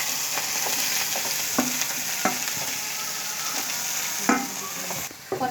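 Mustard seed tempering hisses and sizzles steadily as it is tipped into raw spinach in a home kitchen, with scattered sharp pops and clinks of the pan, close and fairly loud, ending in a brief quieter stretch.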